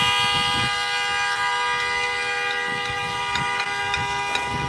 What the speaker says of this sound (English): People honking.